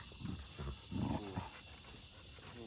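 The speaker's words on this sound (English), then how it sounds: "Hey, cut it out. No growling." A dog growls in low, rough bursts, several throaty rumbles close by, with quieter gaps and a faint steady hum in the background.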